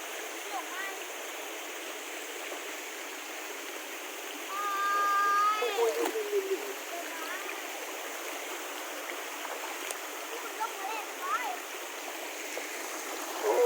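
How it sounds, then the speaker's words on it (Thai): Constant rushing of a stream and small waterfall in Nakhon Si Thammarat, Thailand, steady and close, with brief splashing and faint voices in the background. "มีเสียงน้ำลำธาร สบายใจ ฟังแล้วรื่นหู เสียงธรรมชาติ"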